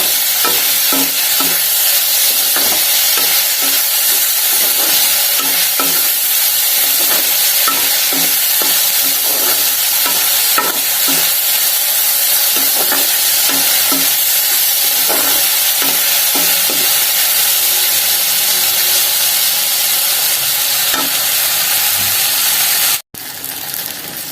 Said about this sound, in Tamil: தக்காளி நல்லா வதங்கட்டும்